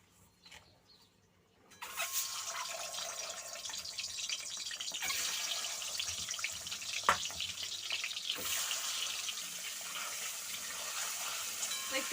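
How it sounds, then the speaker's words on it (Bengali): Eggs rubbed with salt and turmeric hit hot oil in a Bengali home kitchen, bursting into a loud, steady frying hiss after a quiet opening moment and sizzling on without pause. "আমি এবারে ডিমগুলো ভেজে নেব।"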